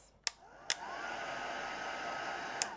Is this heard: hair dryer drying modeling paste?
yes